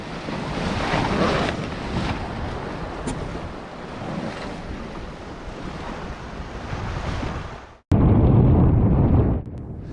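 Strong wind of about 30 knots roars over rushing water as a Mini 6.50 racing sailboat, double-reefed, cuts through the sea off Italy, loud and steady, with gusts buffeting the microphone.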